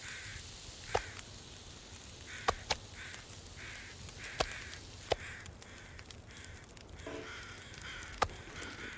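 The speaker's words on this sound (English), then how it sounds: "Okay, Crows, I hear you. I know, you're very excited." Crows caw repeatedly at a distance in The Long Dark survival game, harsh calls spaced a second or two apart over a steady windy outdoor ambience, with a few sharp clicks.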